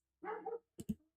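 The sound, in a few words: dogs barking outside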